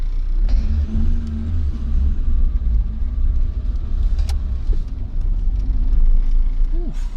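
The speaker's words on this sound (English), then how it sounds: "We're gonna go take it around the block, see how she drives" A Proton Wira with a suspected leaking head gasket and worn brakes drives slowly around the block, its engine a steady close rumble inside the cabin.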